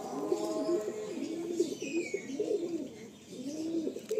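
Pigeons coo repeatedly in a rolling, rhythmic pattern, bred eyes-plus flying pigeons kept for sale in Garia, Kolkata, close and clear over a faint background hiss, with a brief higher chirp midway.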